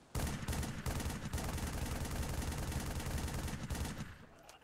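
Sustained rapid automatic gunfire from Halo 3 ODST roars in a dense, steady stream of shots for several seconds, loud and close-sounding, then cuts off abruptly, with no talking.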